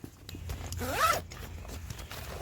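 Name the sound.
zipper closing the top of a water tanker hydration carrier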